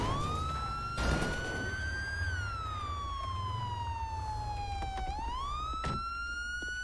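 A police car siren in the FiveM role-play mod of GTA wails loudly and steadily, its pitch sweeping slowly up and down before a quick rising yelp, with faint engine noise underneath and no talk.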